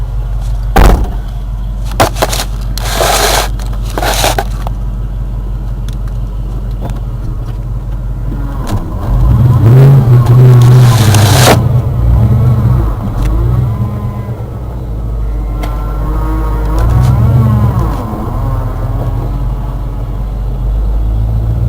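A small mule utility vehicle fitted with a 302 V8 rumbles nearby with a deep, steady idle, then swells into louder revving bursts around the middle and again later, with a few sharp knocks early on and no talk.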